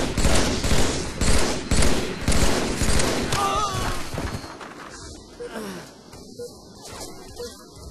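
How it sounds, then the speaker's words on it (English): Rapid bursts of gunfire from a Halo 3 multiplayer match, dense and loud at first, then thinning into scattered shots, with a player's voice reacting over the game. "I just shot her like 12 times in her head and she didn't die"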